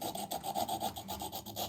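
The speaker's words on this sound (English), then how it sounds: "So let's go ahead and we crush that all down." A rock sample is ground and crushed against a hard surface to test for malleability, producing a steady, close scraping and rubbing sound in quick repeated strokes.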